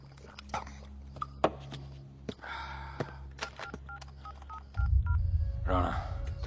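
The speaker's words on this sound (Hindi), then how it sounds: "फोन" A telephone being dialed in a Hindi film scene: a short run of quick keypad tones over a steady low hum, followed by a burst of louder rumbling noise near the end.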